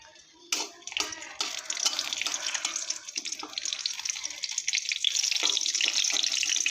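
Dried red chillies and bay leaves dropped into hot oil in a wok, giving a steady, bright sizzle and crackle that starts abruptly and stays loud and close throughout, with no voices.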